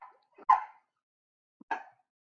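Dogs barking indoors as someone arrives home, two short sharp barks about a second apart, moderately close with silence between them.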